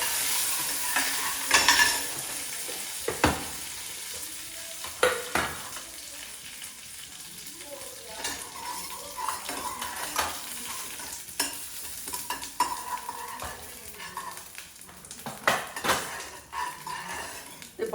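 Cumin seeds and curry leaves sizzle in hot oil in a pan while making veg poha, a steady crackling fry broken by sharp clinks and scrapes of a stirring spoon against the pan; no one speaks.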